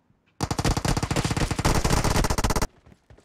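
Sustained automatic rifle fire in PUBG Mobile, an M416, loud rapid bursts of shots rattling nonstop for about two seconds before cutting off abruptly.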